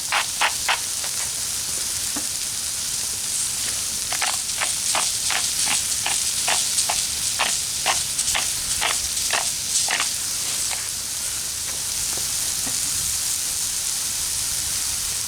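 Cauliflower sizzles in melted butter in a pan, a steady close crackle and hiss running throughout, with repeated sharp pops and spatters scattered across the sound; no talking.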